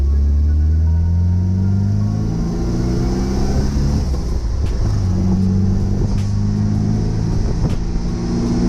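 A 1974.5 MGB sports car drives along with its engine droning loudly and steadily, pitch rising and falling as it accelerates through the gears, heard from close inside the car.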